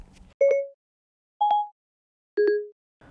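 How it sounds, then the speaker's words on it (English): Siri voice assistant chimes: three short, clear electronic tones in a row, evenly spaced, each a brief pure beep with a slight pitch change, heard alone in quiet. "This is the sound of Siri."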